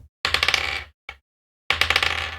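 Dice tumble across a bare wooden tabletop in quick rattling bursts, two clattering rolls separated by a single short knock, close and crisp with no voices.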